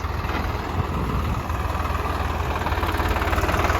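A Swaraj tractor's diesel engine idling nearby, a steady low rumbling throb with a regular pulsing beat that holds constant throughout, no voices over it.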